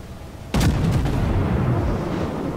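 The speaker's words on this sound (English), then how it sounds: "let's test fire a shot" A warship's main gun test-fires once in World of Warships, a sudden loud boom followed by a long rumbling roar that slowly fades over the next two seconds, with no talk.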